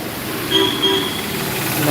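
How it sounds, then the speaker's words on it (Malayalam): Steady roadway rumble of Sabarimala-bound vehicles passing nearby in misty Idukki, with a brief tonal horn-like whine rising over the constant traffic noise. "ഇതൊക്കെ ശബരിമലയ്ക്ക് പോകുന്ന വണ്ടികളാണ്"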